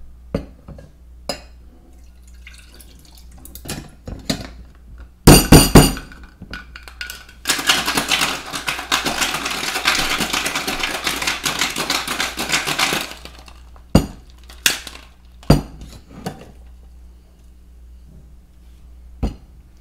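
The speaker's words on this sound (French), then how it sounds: "On envoie tout ça au shaker et on va brasser quelques secondes seulement." A cocktail shaker filled with Mai Tai ingredients is shaken hard for about five seconds, a dense rattling burst framed by scattered knocks and clinks before and after.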